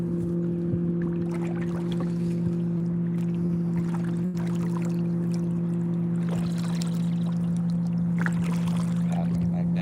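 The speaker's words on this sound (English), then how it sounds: "Paddling back down." Kayak paddle strokes dip into the water during a fishing trip for redfish, faint splashes over a steady low hum, with a voice talking at times.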